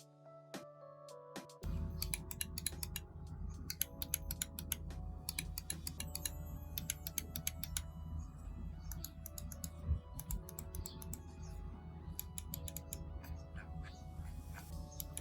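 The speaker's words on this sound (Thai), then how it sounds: "เดี๋ยวเรามาฟังเสียงคลิกกันดูเลยนะครับ" Rapid series of crisp, close clicks from a Razer Viper V3 Pro wireless gaming mouse weighing 55 grams, tapped repeatedly in irregular bursts over a steady low background hum.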